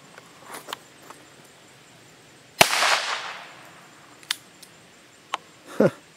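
.22 Short rifle shot fired at a radiation-proof plastic target, a single sharp loud crack with a short decaying tail, surrounded by faint small clicks and taps.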